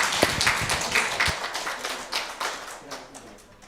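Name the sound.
church congregation clapping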